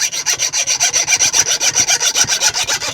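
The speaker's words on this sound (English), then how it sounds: "Hacksaw didn't work, just wouldn't go for a screw at all." Rhythmic rasping of a file or saw cutting the ends off screws in a narrowboat, about twenty even back-and-forth strokes in three seconds, loud and close with no talking.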